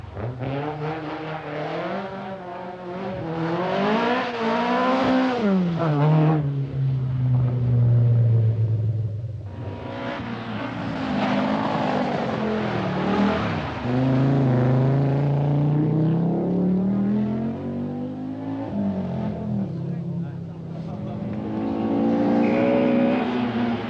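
A turbocharged Audi Quattro rally car climbs a hill on the 1983 Arnold Clark Scottish Rally, its engine loud and near, revving up through gears in long rising surges with brief lifts between them.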